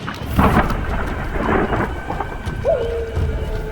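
Thunderstorm sound effect for an animated horror story: rumbling thunder over heavy rain and gusting wind, steady and close, with a faint creaking tone near the end and no voices.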